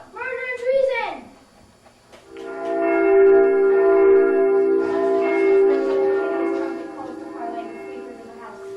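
An alarm bell in a sixth-grade school play of Macbeth is imitated by a young voice: a short cry, then a long sustained ringing tone held for several seconds before fading into more vocal sounds.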